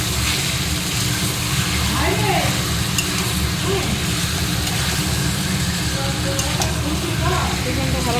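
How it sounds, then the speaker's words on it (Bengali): Spice-marinated chicken frying in a pot for biryani, a constant dense sizzle with occasional stirring scrapes, and a voice speaking faintly underneath. "চিকেনটা ভালো করে কষতে হবে।"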